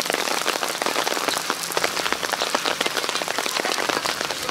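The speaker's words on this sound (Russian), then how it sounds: "Дождь идет сплошной стеной." Heavy rain pours steadily in Sudak, Crimea, a dense continuous patter of drops striking a surface nearby, with no voices.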